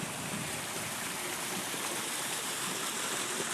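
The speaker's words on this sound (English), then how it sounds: "It's a waterfall. It's awesome." A backyard waterfall built into a garden pond with plants and goldfish flows steadily, giving a continuous soft splashing rush at moderate, even volume with no talking.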